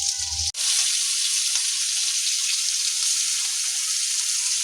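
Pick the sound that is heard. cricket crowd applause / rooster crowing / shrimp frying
shrimp frying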